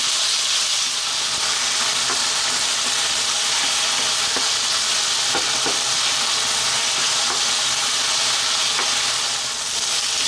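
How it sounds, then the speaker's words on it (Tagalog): Marinated chicken sautés in a non-stick wok, a loud, constant close sizzle and hiss with occasional stirring scrapes, no voices. "So ilalagay na natin yung ating marinate na chicken. So gigisahin ko lang siya ng mga 5 minutes."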